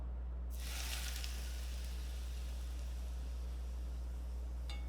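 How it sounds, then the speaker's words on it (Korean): Hot smoking oil is poured over chili powder and minced garlic seasoning, setting off an abrupt loud sizzle that settles into a steady, close hiss over a low background hum. "요거 기름을 끓이고 여기다 넣어줄 건데"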